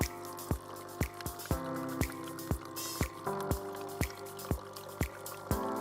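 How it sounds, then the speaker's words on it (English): A Nescafe Dolce Gusto Mini Me coffee machine runs its rinse cycle, with a steady hum and water flowing and dripping at a regular pulse, heard close. "Mini-Me will start rinsing for another 30 seconds."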